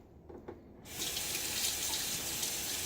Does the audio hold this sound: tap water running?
yes